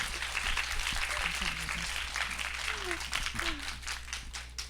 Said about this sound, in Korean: 그럼 입덕하신 분들 박수 한번 부탁드리겠습니다.